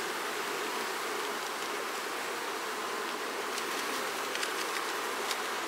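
Honey bees from a hive colony buzz in a dense, continuous drone that fills the whole stretch, with faint rustling near the end and no voices.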